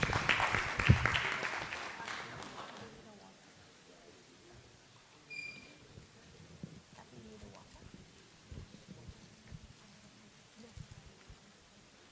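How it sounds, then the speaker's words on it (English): An audience at a festival forum gives a round of applause that is loudest at the start and fades out within about three seconds, followed by quiet room tone with faint voices talking. "Let's give them a nice round of applause"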